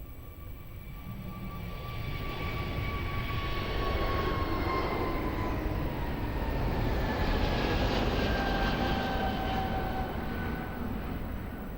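An airliner takes off from runway 02 at Lisbon Airport, a steady loud engine roar that swells over several seconds and holds, with a rising whine on top, heard from a distance without speech.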